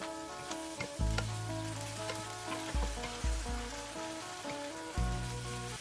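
Shrimp with glass noodles sizzle and crackle steadily in a pot as they bake, a loud, continuous frying hiss with a few brief bumps and stirs, and a faint melodic tone sits underneath.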